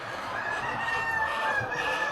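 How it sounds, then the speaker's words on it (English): Free range chickens in an enclosed shed fill the air with continuous clucking and crowing, a dense, steady flock chorus with no talking over it. "In this shed in here, we've got all the free range chickens."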